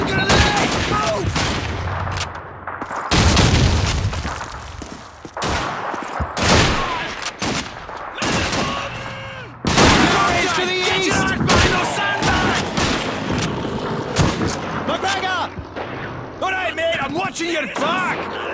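Dense gunfire and explosions from the Call of Duty 2 battle at Matmata on Xbox 360, with a German grenade blast, rapid rifle and machine-gun bursts crackling almost nonstop, and voices shouting over the combat.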